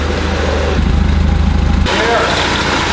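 An inline-six Mercedes 190E from a junkyard idles close by with a loud, slightly uneven throb, and a voice comes in over the engine partway through.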